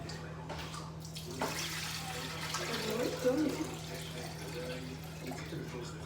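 Water pouring into a Thermomix TM7 bowl to cook rice, a steady, close trickling wash over a constant low appliance hum.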